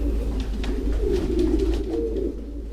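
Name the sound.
doves cooing in their loft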